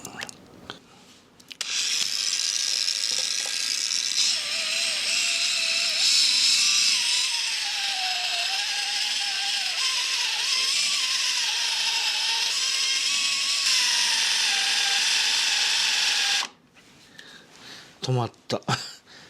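A Duratech cordless polisher runs continuously for about fifteen seconds, a loud, close motor whine whose pitch wavers slightly under load before it cuts off.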